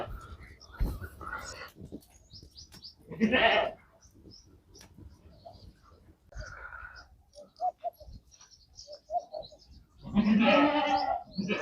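A mother goat bleats a few times nearby, loud wavering cries spaced out between quiet stretches with soft breathy sounds.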